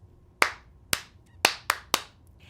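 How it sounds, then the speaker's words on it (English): Hands clap a rhythmic pattern of five sharp claps, irregularly spaced and close, with no voices. "Or you can clap a pattern like this."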